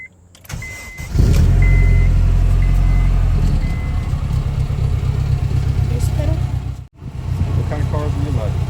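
A Honda Civic Si engine cranks and starts, then settles into a steady idle that is close and fairly loud. Voices talk over the running engine.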